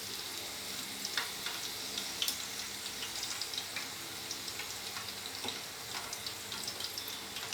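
Chicken keema balls frying golden in oil over a slow flame, a soft, continuous sizzle with small irregular pops and crackles, fairly quiet and close, with no voices.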